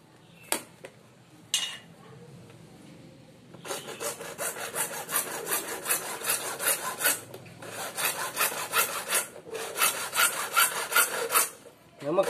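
A hand saw cuts through plastic for a homemade water float valve, a close, rhythmic rasp of quick back-and-forth strokes after a couple of isolated scrapes, with brief pauses between bursts.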